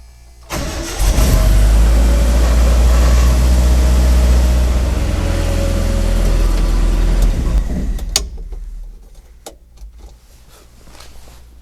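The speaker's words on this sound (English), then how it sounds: "So now we crank the truck and we should see higher voltage." A truck engine cranks and fires, then runs at a steady loud idle for several seconds before shutting off, leaving a few sharp clicks and knocks in a quiet space.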